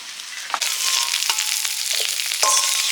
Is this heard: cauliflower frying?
yes